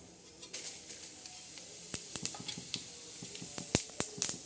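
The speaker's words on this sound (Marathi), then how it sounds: "हे तळून घ्यायचं आहे बघा छान असं तळत आहे" Cumin, mustard and fennel seeds spit and sizzle in hot oil for a tempering, scattered sharp crackles and pops over a faint hiss, close, growing busier toward the end with no talking.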